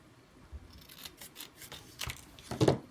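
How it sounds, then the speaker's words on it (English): Close scissors snip through paper grass for a card, a few quiet cuts building to a louder final snip, with no talking. "I'm just trimming off the bottom part because I don't really want this to show."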